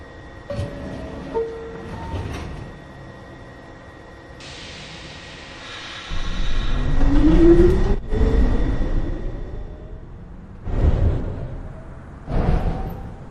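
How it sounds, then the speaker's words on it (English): A NYC Subway 1 train departs 215th Street station, its rumble swelling midway into a loud, sustained roar with screeching wheels, then fading into passing rattles and bursts near the end. "This is a 1 train going downtown towards Rose Street"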